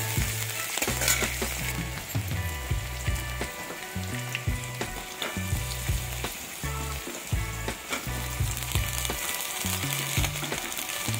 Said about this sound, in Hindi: प्याज को अच्छे से भून लेना है, गाजर को हल्का भून लीजिए